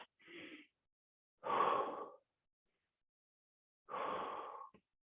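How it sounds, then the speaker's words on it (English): Three deep breaths during a half-kneeling stretch, each a slow, airy exhale or gasp heard up close, separated by silence. "take 2 deep breaths"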